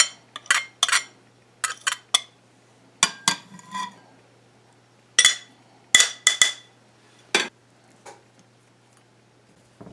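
Metal spoon clinking and scraping against a pot or bowl while curry powder, garam masala and jeera are mixed into a paste, in uneven bursts of close, bright clinks separated by brief pauses.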